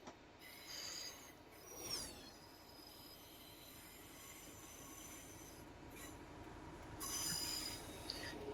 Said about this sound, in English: That's the loco brake releasing, by the way, just in case you didn't know.